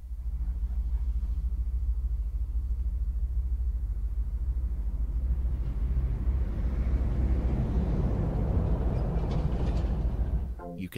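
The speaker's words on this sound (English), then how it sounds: "You can hear the trains around you" Trains rumble around a London Underground-style depot in the TubeSim game, a steady low mechanical rumble that swells louder in the second half before cutting off, no talking.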